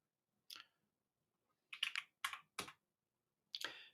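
Short bursts of typing on a computer keyboard: a single keystroke, then a quick cluster of several clicks and one final press, close and quiet in an otherwise silent room.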